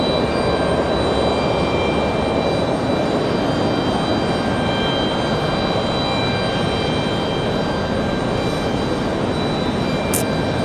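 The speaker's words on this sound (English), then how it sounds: "Next arrival, another Mesa Airlines United Express. Coming in from Houston," A Mesa Airlines United Express Embraer E175LR jet arrives at Raleigh-Durham, its engines giving a continuous broadband rumble with a faint steady whine above it, heard alone without talk.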